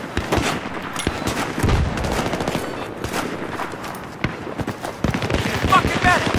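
Machine gun fire in Battlefield 3 on the Noshahr Canals map, loud rapid bursts of automatic gunfire with sharp individual shots layered over battle noise, a voice speaking amid the shooting.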